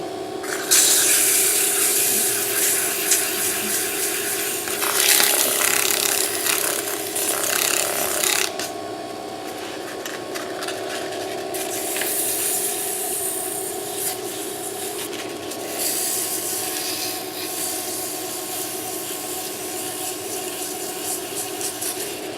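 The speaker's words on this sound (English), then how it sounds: "I'll go ahead and sand it right quick." Sanding a turned wooden end piece for a cryptex on a spinning lathe gives a steady, continuous rasping rub with a faint mechanical whir beneath, loudest in the first half and then evening out, with no talking.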